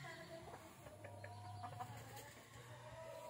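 A young rooster (stag) in a backyard gives soft, scattered clucks at close range over a steady low background hum, with no talk.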